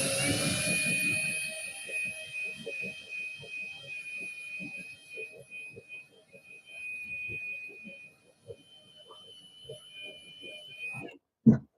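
A power drill bores a pilot hole while mounting a power distribution center in a limo, giving a steady high whine that fades after the first seconds into quieter scraping and ticking, with a brief clunk at the end.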